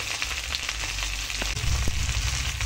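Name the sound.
pumpkin and potatoes frying in a pan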